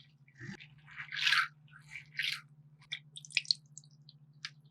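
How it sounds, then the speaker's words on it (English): Soaked black beans are washed in water, with intermittent splashing, sloshing and dripping as hands stir them in a bowl, alongside a faint steady hum in the background. "Wash off the dirt from the black beans."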